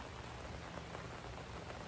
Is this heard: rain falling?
yes